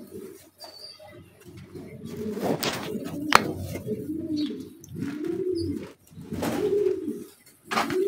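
Pigeons coo repeatedly in a loft while being fed grain, their soft rolling calls rising and falling in close, steady bursts with faint chirps and light rustling between them.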